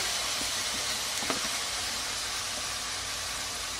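Chopped onion with ginger-garlic paste fries in a pan for a Bengali egg korma, giving a soft, continuous sizzle and hiss that stays quiet and even throughout.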